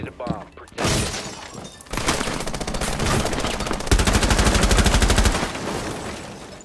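Rapid automatic gunfire in Rainbow Six Siege, loud close bursts that build into a sustained rattling stream after a couple of sharp single shots and a thump, with a voice briefly heard.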